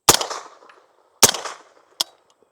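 A suppressed MAT9 roller-delayed pistol-caliber carbine firing reman ammo through a full back-pressure can, two loud close shots about a second apart followed by a fainter third report, each with a brief ringing tail.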